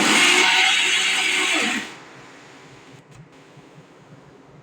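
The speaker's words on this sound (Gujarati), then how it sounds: "મિક્સરમાં ક્રશ કરી લેશું એટલે સરસ ચટણી રેડી થઈ જશે" A kitchen mixer grinder crushes chutney for medu vada, a loud dense whirring burst for about two seconds that cuts off abruptly, leaving a quiet room with faint low hum.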